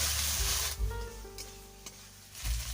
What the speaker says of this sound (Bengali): এবারে আমি ভেজে রাখা আলুগুলোকে ছেড়ে দিচ্ছি।